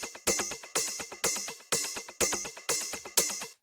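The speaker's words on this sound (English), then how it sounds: "And then we got a second percussion loop" A second looped percussion sample from a house drum track plays alone, with a sharp bright hit that falls away repeating about every half second, and busy lower tones ticking between the hits.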